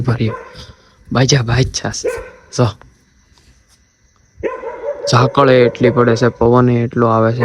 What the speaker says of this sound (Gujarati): બેકગ્રાઉન્ડમાં છે ને કૂતરા પાસે છે અવાજ આવે એ થોડો ઇગ્નોર કરજો